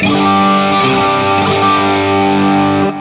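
A distorted electric guitar chord through a Marshall Super Lead Plexi amp model in an Axe-Fx rings out loud and sustained for about three seconds, crunchy and thick with overdrive, with no voices.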